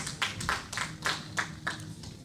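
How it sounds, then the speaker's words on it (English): A small group claps in a loose rhythm of bursts at a certificate presentation for youth skills classes, moderately close, with no voices. "you can clap for them as they get certificates"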